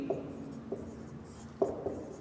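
Pen writing on paper while working a class 10 geometry exercise on circle tangents, a few soft scratchy strokes in short separate bursts, quiet and close, with no talking.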